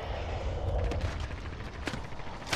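Game gunfire in Call of Duty Warzone: a dense stream of cracks and booms with a couple of sharper bursts near the middle and end, steady and moderately loud, no voices over it.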